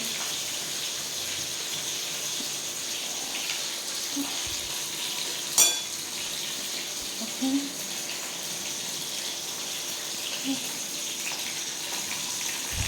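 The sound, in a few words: fish frying in oil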